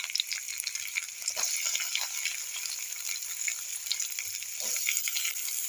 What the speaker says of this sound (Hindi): हरी मिर्च डालने के बाद तुरंत ही हम इसमें जो प्याज रखे हैं वो प्याज डाल देंगे